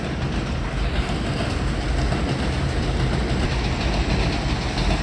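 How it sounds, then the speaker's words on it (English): A solid train passes close by with a loud, continuous rumbling roar and faint rhythmic clatter that holds steady throughout, with no voices over it. "hold on, a train."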